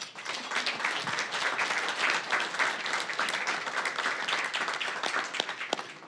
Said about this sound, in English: let's give the whole panel a round of applause